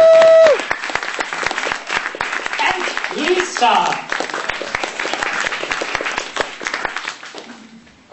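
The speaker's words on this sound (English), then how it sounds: "A big applause" Audience applause at a 2007 Arse Elektronika stage presentation, a steady clapping wash lasting several seconds beneath a host speaking over it, tapering off near the end.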